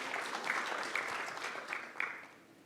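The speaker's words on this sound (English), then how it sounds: "Give Matt a round of applause." Faint, distant applause from an audience at a technical tutorial on debugging custom hardware with Linux, a short patter of scattered clapping that fades out.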